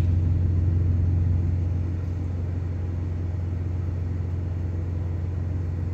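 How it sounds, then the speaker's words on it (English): A parked truck's auxiliary power unit running in bitter cold, a steady low droning hum with a deep constant rumble, unchanging throughout and no voices. "I've been running the APU since I've been parked"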